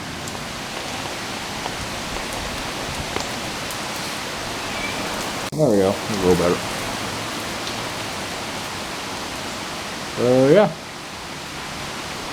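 Steady rain falls around a porch on a stormy October day under a tornado watch, an even, close hiss throughout, with someone talking briefly over it.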